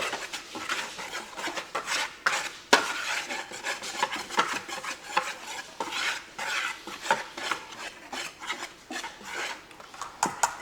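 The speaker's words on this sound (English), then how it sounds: "And then whisk it up again." Dry biscuit ingredients for snowflake biscuits are whisked in a bowl, giving rapid, rhythmic scraping and rustling strokes at close range, steady throughout with no talk.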